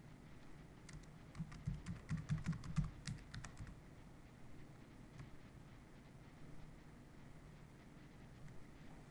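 Quiet bursts of computer keyboard typing as vCenter credentials are entered, a quick cluster of soft key taps in the first few seconds, then sparse light clicks over low background hum.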